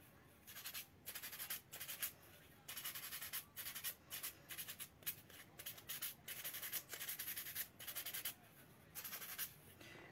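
Repeated rhythmic strokes of hand sanding, a gritty rasping that comes in bursts with short pauses between them, close and fairly steady, no talking.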